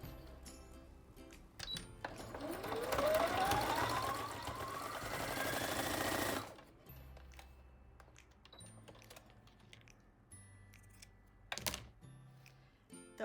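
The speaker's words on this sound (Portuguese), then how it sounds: "Ó, eu vou costurar aqui em cima da costura." A sewing machine stitching over a seam on a fabric bunny, running in one steady whirring burst of several seconds with rising pitch, then stopping, followed by scattered quiet clicks and handling noises.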